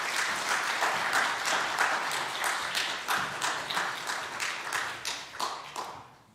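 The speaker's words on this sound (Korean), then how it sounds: "여러분 뜨거운 박수로" A church congregation applauding to welcome a pastor to the pulpit, dense crowd clapping in a large hall that stays steady and then gradually fades, no speech over it.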